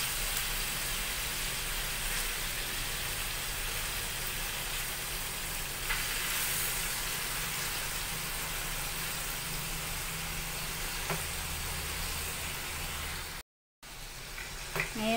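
Chicken inasal grilling in a pan, a steady broad sizzle that fills the whole clip, close and even, with a brief drop near the end and no clear talking.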